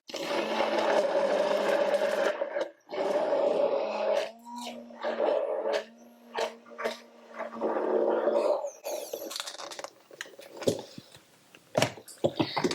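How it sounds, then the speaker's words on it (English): An immersion blender beats eggs with baking powder in a kitchen, whirring in sustained bursts with brief pauses and pitch shifts, then breaking into scattered clicks and knocks toward the end. "I like to use the immersion blender for most stuff."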